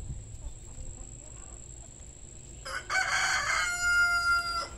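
A backyard rooster crows once, loud and close, following a quiet stretch of faint garden background.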